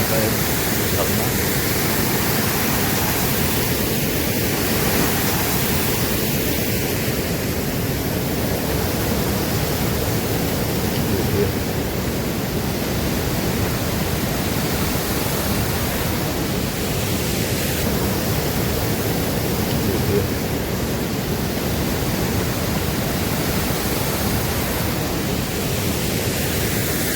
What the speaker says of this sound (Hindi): जंगल चट्टी का एक झरना